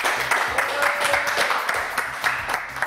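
A French television studio audience applauds a singer as she arrives on set, producing dense, steady clapping with rhythmic claps standing out, loud and close, mixed with a few voices.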